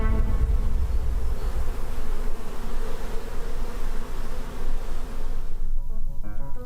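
Honeybees buzz continuously close by, a steady droning hum with wings whirring in and out, no voices.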